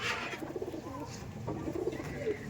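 Pigeons coo softly in a loft, a short run of low throaty burbling calls at moderate distance with no one talking.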